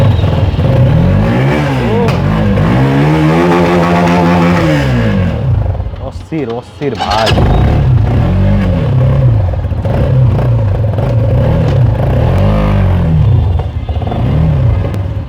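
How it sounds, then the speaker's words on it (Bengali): A black 2026 DUCASU 1050 motorcycle engine revs loudly and close, with repeated rising and falling throttle blips, a short pause midway, then more revving, while someone talks briefly over it. "বাইকার সাউন্ডটা শোনাই"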